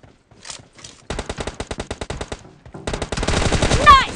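Rapid machine-gun fire in PUBG Mobile team deathmatch: a long, evenly spaced burst of loud shots, then denser overlapping gunfire near the end.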